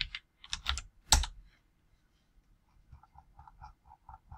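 Keys clatter on a computer keyboard in quick close bursts. The presses stop, then lighter scattered keystrokes return in a quiet room.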